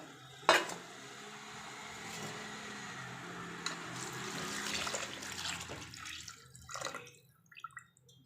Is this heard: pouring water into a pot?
yes